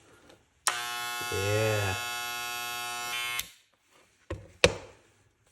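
Wahl electric hair clippers, just fitted with a replacement power cord, buzz loudly for about three seconds with a bright harmonic hum, then cut off, followed by a couple of handling clicks and a brief spoken word.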